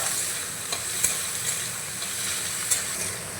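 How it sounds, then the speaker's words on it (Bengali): Chopped capsicum and tomato get stirred in a frying pan, a soft continuous sizzle broken by a few light spoon taps against the pan. "এই ক্যাপসিকাম কুচিটা এখন দিয়ে দিচ্ছি আর টমেটো কুচিটাও আমি একই সঙ্গে দিয়ে দিচ্ছি নাড়াচাড়া করে মিশিয়ে নেব"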